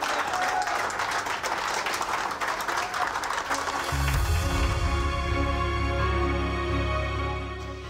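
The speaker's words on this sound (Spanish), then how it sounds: "un aplauso para todos ustedes" A small audience of residents at a rehabilitation centre in Aguascalientes applauds. The clapping is steady for about four seconds, then sustained music comes in over it and the applause fades.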